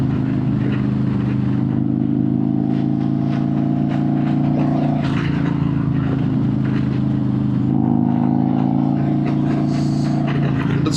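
A Harley-Davidson motorcycle fitted with a Tury exhaust pulls under throttle with a deep, steady, loud engine drone, the pitch rising and shifting between gears, heard close up without talk.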